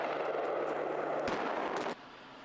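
Rock blasting at a coal open-pit mine, a dense, loud roaring rumble of the explosion that carries on for about two seconds before abruptly cutting off to a quieter background.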